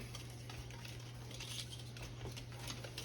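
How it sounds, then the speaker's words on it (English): A spoon stirs dry cornbread mix into a wet corn casserole in a bowl, giving a soft, steady scraping and patting that is quiet and close, with no talking. "I'm gonna put the cornbread mix in there and mix it up"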